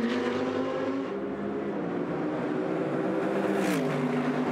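A Mercedes GT race car is racing on the Long Beach street circuit. A loud, sustained engine drone holds steady and then shifts pitch near the end, without any talk over it.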